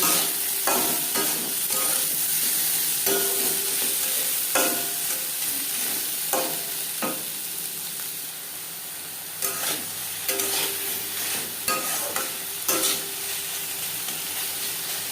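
Katla fish curry with eggplant, cooked in a pan with little oil and no garlic or onion, being stirred: a steady sizzle and fry with a repeated scrape and clatter of the spoon, close and loud, with no voices.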